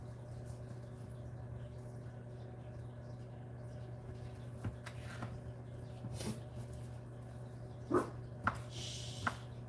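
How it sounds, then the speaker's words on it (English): A visiting dog barks somewhere in the background of a home, a few faint, distant yaps near the end over a steady low electrical hum. "You guys hear that bark in the background?"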